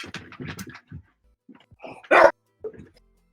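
A dog lets out one sharp, loud bark indoors after some soft scattered noises, then a quieter short yip follows.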